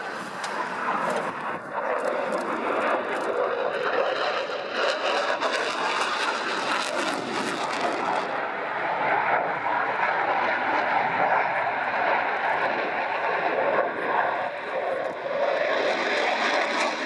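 A Polish Air Force jet roars through an airshow display at the Royal International Air Tattoo 2016, a sustained loud engine rush passing low, with a commentator talking over it.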